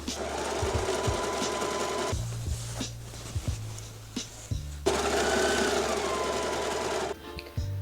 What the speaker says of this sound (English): I'm going to start by overlocking all of the raw edges just to make sure that they don't fray